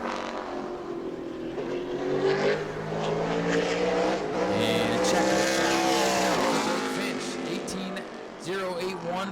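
A Super Late Model race car laps the New Smyrna track during qualifying, its engine droning and shifting in pitch at moderate distance, beneath continuous commentary from an announcer.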